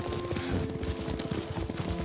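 Horse hooves clop in a quick, rhythmic gallop while riding in Ghost of Tsushima, steady and fairly close under a continuous background tone.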